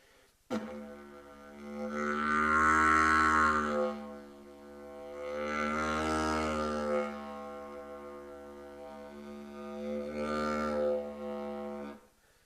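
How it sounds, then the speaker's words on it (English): Tightened-lip brass embouchure buzz, a low droning tone with rich harmonics swelling in three strong blown pushes, loud and close with short breaks between. "I'm tightening my lips to resist the higher pressure from blowing stronger."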